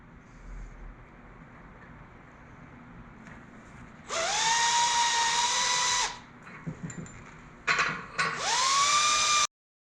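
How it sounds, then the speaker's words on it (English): A power drill bores a hole in a center-punched metal pipe for a homemade press brake, a loud whining bit in two bursts with a brief pause between and quiet shop ambience before. "get the pipe drilled while we're working on"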